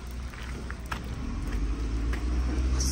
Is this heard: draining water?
no